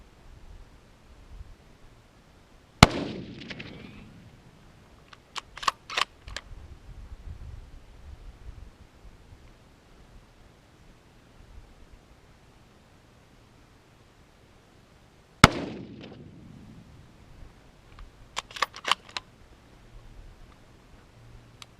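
A rifle is fired twice through a camo net, each shot a sharp, loud crack with a quick decay, about thirteen seconds apart, followed by faint clicks and handling noises in an otherwise quiet outdoor setting.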